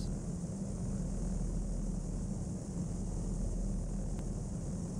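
A steady, hissing engine drone from an aircraft on landing approach in the Flight Sim World video game, with landing gear down and flaps set, at an even level throughout.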